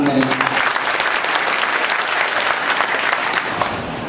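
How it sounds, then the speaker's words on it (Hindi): A hall audience at a district conference in Shahjahanpur applauds to welcome a guest: dense, steady clapping from many hands, loud and sustained throughout without a break. "आप हजरात तालियां बजाकर उनका खैर मकदम करें"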